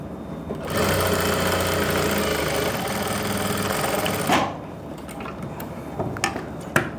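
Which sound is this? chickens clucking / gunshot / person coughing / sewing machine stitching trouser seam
sewing machine stitching trouser seam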